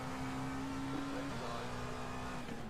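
Racing car engine in a sim racing game at Spa, a steady loud drone whose pitch steps down as revs drop, with a voice talking over it.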